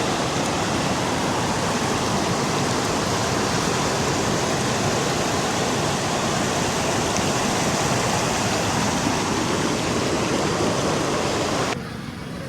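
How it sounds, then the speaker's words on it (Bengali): A hill-stream waterfall rushes down fast, a dense, continuous roar of water filling everything at full volume, close by and unbroken until it eases slightly at the very end. "এই দেখুন কতটা গতিবেগে জল উপর থেকে নিচের দিকে আসছে।"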